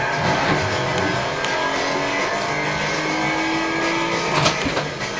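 A car powered by a 3.2 litre V6 engine taken from a Toyota Camry drones steadily at speed, one continuous loud engine note with no talk over it.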